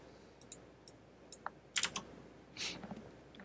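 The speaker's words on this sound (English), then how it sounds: "And the password, the very, very, very, very long password." Sparse computer keyboard typing while a long password is entered, a handful of light key clicks spread out with pauses and a brief burst of faster keystrokes near the middle, close and quiet with no talking.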